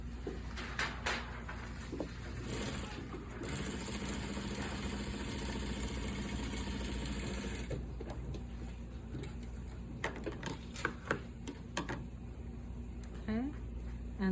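A sewing machine stitches through fabric along the bottom side of a double welt pocket, giving a steady mechanical whir for a few seconds in the middle, with a person talking before and after it.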